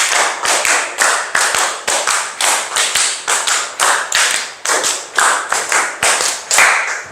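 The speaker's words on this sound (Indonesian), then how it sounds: "Tepuk 5. Tepuk 5. Tepuk 5. 5 kali tepuk 5." A school class claps together in a steady rhythm, sharp loud unison claps falling in repeated groups of five with short pauses between them, close and clear with no talking over them.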